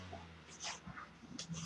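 Dogs whimpering in short, faint, high-pitched bursts, with quiet breathing-like noise between the cries and no clear speech.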